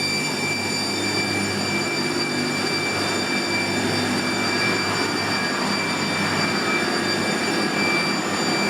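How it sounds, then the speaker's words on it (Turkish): Electric motor in an olive processing plant driving olive paste up to the separator, a constant loud mechanical hum and whine with steady tonal drones and surrounding factory noise, unbroken for the whole stretch. "Bu motor yardımıyla yukarıdan separatöre götürüyor."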